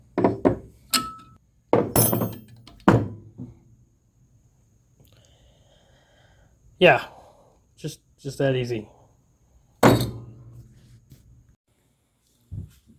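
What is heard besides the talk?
hammer tapping a puller off the flywheel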